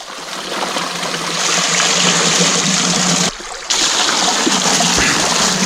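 Water rushes loudly and steadily through a gold wash plant at a dig site, a close, continuous gushing hiss that breaks off briefly once before resuming.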